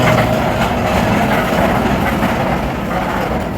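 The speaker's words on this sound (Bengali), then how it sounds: "ট্রেন ঢুকে গেছে।" A Snowdon Mountain Railway train pulls into a station with a loud, continuous rumble and mechanical clatter that stays close and steady, easing slightly toward the end, with no talking.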